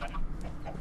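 Chicken clucks from the Minecraft FTB mod, a few short game-sound bursts over a steady low background hum, with no talking.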